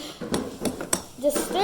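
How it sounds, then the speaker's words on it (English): Dishes being washed in a home kitchen during baking, with sharp clinks and knocks of cutlery and pots scattered irregularly under a voice nearby. "We're washing dishes because I used so many dishes."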